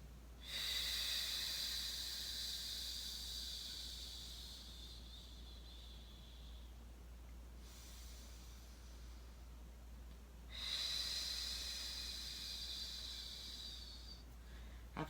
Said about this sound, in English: Stay there and breathe.